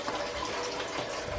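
Tap water runs steadily once the supply returns during a Texas winter snowstorm outage, a faint continuous hiss and splash with no talk.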